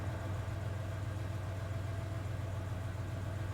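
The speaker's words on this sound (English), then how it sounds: "I hear the sound of an engine revving outside." A steady low truck engine rumble from a video game runs throughout, even and continuous like a vehicle idling nearby outside, with no voices.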